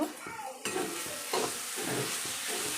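Red amaranth greens are stirred with sugar in a frying pan, giving a bright continuous sizzle with repeated scraping strokes of the spatula every half second or so.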